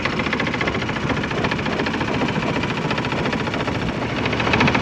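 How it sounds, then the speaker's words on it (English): A sailboat's engine drones steadily while motor sailing out of a narrow channel at night, a constant low rumbling hum with wind and water noise mixed in and no pauses. "We're just kind of motor sailing to get out of this little channel area"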